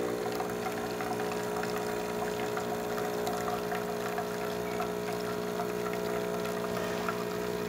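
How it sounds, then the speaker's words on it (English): A Delonghi Magnifica espresso machine pushes a steady stream of water through its spouts, a continuous pump hum with liquid trickling and pouring, fairly faint and unbroken. "nice steady stream coming out of the machine, working excellent"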